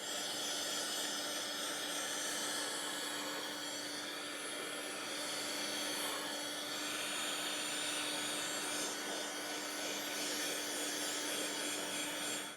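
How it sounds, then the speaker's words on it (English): Heat gun blowing hot air over a wenge sample board, a steady, loud, close fan roar with an even whine, unbroken for the whole stretch. "I'm going to hit it with a little bit of hot air from the heat gun"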